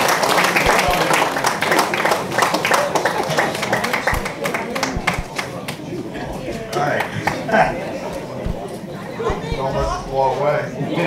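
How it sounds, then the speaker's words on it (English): Audience applause and scattered clapping at the Quantum Snipe Nationals 2024 sailing awards ceremony, a dense crowd sound that fades a little toward the end, with chatter and voices mixed in throughout. "give her a round of applause"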